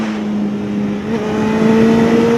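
A Honda CBR600RR sport motorcycle accelerates on a test ride, its engine a loud, steady close-up roar with the pitch climbing gradually over a couple of seconds.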